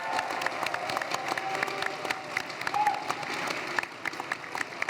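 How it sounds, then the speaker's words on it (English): Applause from a live audience at a game update show, steady dense clapping with scattered cheers, fairly loud and filling the whole stretch. "give yourselves a round of applause for that"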